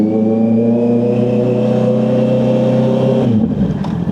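Honda CB650R motorcycle engine revs steadily with a strong, buzzy harmonic tone, then drops in pitch near the end as the gear shifts into second.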